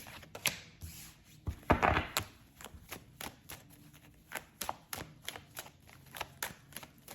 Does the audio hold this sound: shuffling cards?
yes